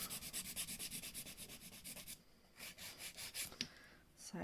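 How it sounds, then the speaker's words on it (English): A nail file rasps back and forth over acrylic nails in quick, regular strokes, first in an even run and then in a few slower, separated passes, close and fairly quiet. "So this really doesn't need a lot of filing, just a bit of a refine."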